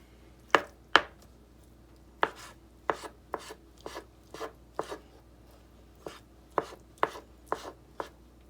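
A knife dices a pound of raw tuna on a cutting board for tuna tartare: about fifteen crisp, sharp chops in uneven clusters, close and clear over a quiet background, with no voices.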